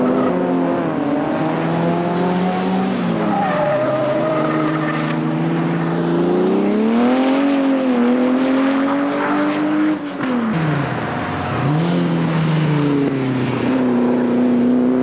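Triumph TR race car at a 1995 Triumph TR Racing Register race, its engine note rising and falling loudly and continuously as it laps the circuit, with a brief dip near the end before it picks up again.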